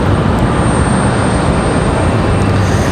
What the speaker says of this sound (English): Another A220 300